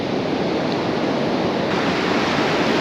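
Sea waves run onto Cambois Beach in Northumberland on a mild late-November night with hardly any wind, heard as a steady, loud broadband rush of surf with no talk over it.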